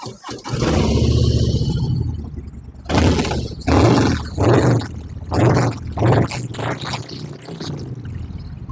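A 2022 Harley-Davidson Low Rider ST with a 1,923 cc engine and 9,277 km on it roars nearby, first in one long rev, then in a string of short, punchy throttle blips over a deep idle.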